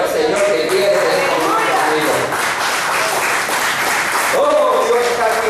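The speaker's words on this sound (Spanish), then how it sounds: "Denle un aplauso al Señor que quiere ser" Audience applause in a church congregation, a broad clapping wash heard under a loud voice speaking over it throughout.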